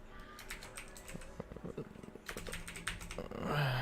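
Rapid keyboard typing entering text in streaming software, a quick run of close, moderately loud key taps with a brief pause partway, ending in a low electronic tone.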